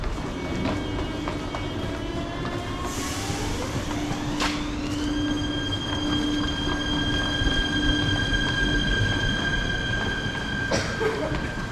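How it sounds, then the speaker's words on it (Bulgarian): A metro train in Pernik, Bulgaria rumbles along with rising wheel squeal and rattling clacks, a steady mechanical drone filling the space for several seconds. "И сега ще направим топла връзка с метрото."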